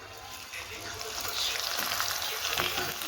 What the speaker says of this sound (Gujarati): તો આપણે પાપડ તળી લઈએ